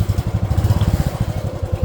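A motorcycle engine idles nearby, a rapid, even low putter of firing pulses with slight clatter, steady and alone without voices.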